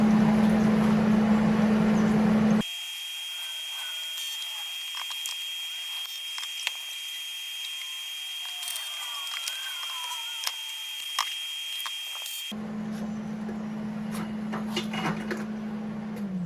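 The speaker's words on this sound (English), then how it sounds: "We're going to do a little bit of welding." Tack welding on a steel cooler rack for a 2021 Bronco Badlands, with a steady buzzing, crackling arc that runs for about ten seconds and is framed before and after by a louder humming shop background.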